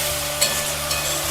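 Masala loosened with water sizzles in a pan as a spoon stirs it, giving a short, even frying hiss with a couple of soft scraping strokes.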